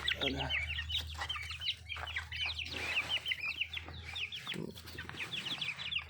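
Several chickens cluck and chatter continuously nearby, with overlapping calls and a low background hum, no speech.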